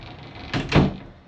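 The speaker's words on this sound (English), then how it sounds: "Door's a little bit noisy." A noisy hotel room door rattles and thumps shut in two quick, close knocks, a brief noisy clunk against a quiet room.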